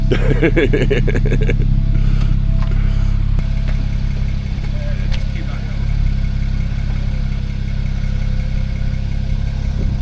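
A convertible car sits with its engine idling in a steady low rumble while its roof operates. A brief mechanical whir and clunks come near the start, then the engine drone continues, with people talking nearby.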